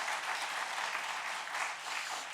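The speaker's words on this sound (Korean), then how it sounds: "참 잘했다고 박수 한번 해주시기 바랍니다" Steady applause from a church congregation during a Sunday service, continuous hand clapping at even volume throughout, no voices standing out.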